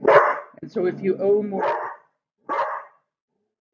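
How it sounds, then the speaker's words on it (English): A dog barks in the background of a lecture, a few short barks mixed under a man's steady speech, with a separate brief bark or yelp after a pause near the end. "Sorry about the dog."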